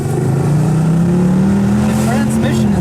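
A Mercedes C63 AMG Wagon's engine revs up in a steady rising drone heard from inside the car, loud and close, with people talking over it.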